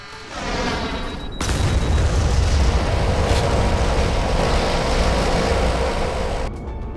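An X-35 missile launch in the naval combat game Modern Warships: a rising whoosh gives way to a loud, sustained roaring blast that rumbles steadily for several seconds before cutting off abruptly.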